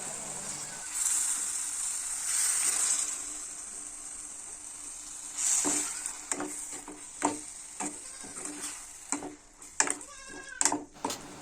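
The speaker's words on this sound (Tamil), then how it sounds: "பச்சை வாசனை போகிற வரைக்கும் கிண்டிக்கிட்டே இருக்கணும்" Tomato, ginger and garlic paste fries in a pan while a spoon stirs it, giving a steady hiss with intermittent scraping clicks that grow busier toward the end.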